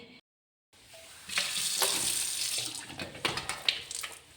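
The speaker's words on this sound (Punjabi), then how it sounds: "ਆਪਾਂ ਨੇ ਜੀ ਘੜੇ ਨੂੰ ਗਿੱਲਾ ਕਰ ਲਿਆ" Water pouring over an old clay pot to wet it, a brief silence then a steady splashing rush that swells and breaks into uneven spatters, nearby and without talk.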